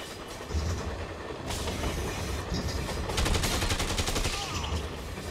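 Gunfire in the Dead Rising video game comes as rapid bursts of shots layered over busy game noise, close and fairly loud, with a denser volley in the middle.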